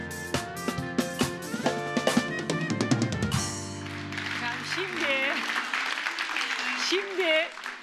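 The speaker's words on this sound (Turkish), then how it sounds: "Alkışlar ona geliyor." Studio audience applause breaks out on a Turkish TV matchmaking show right after a short music sting, a steady wash of clapping lasting several seconds while a voice talks over it.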